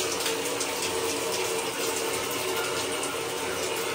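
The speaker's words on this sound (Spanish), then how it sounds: "la primera ducha en agua fría" Cold shower water runs in a strong, constant spray, a loud close hiss that continues steadily without pause.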